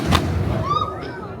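A single heavy boom of a saluting cannon at the start, loud and close, over Valletta's Grand Harbour in Malta, followed by a rolling echo and lingering rumble.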